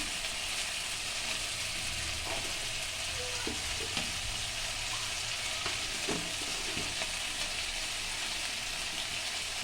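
Ground cumin, turmeric and chili powder frying in oil in a pan for potol chingri, a dense, even sizzle with occasional soft stirring taps and no talking.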